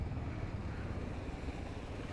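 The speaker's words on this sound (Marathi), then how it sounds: "पाण्याचा फ्लो बघा." Rushing mountain stream water flowing across a high road in the Spiti Valley near Manali, a steady broadband wash with heavy low rumble and wind buffeting, loud and continuous.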